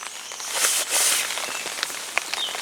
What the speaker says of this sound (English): surprise surprise, it's raining again